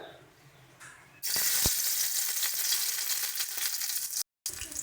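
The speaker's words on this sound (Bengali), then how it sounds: "তেল আমাদের ভালো মতন গরম হয়ে গেছে দিয়ে দিচ্ছি আমরা পেঁয়াজ ফোড়ন" Chopped onion, with nigella seeds, drops into well-heated oil and bursts into a loud, steady sizzle after a quiet start, with a brief cut near the end, while cooking a prawn-head bhorta.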